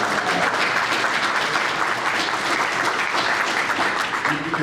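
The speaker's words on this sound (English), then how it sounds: "give everyone a round of applause" Audience applause at an outdoor recreation check presentation ceremony, a steady, dense wash of many hands clapping at close range, sustained at even loudness throughout with no speech over it.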